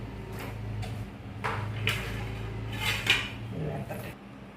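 Metal plates and dishes clatter as rice is moved onto a different plate, with repeated sharp clinks and scrapes close by at a festive home ritual, under quiet room ambience.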